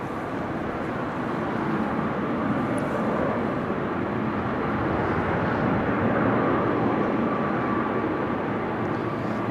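An airliner comes in to land on runway 24, the Kaagbaan, at Amsterdam Schiphol Airport on a windy, showery day, giving a steady, loud, broad engine roar that holds throughout.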